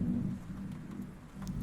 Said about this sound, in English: that thunder was loud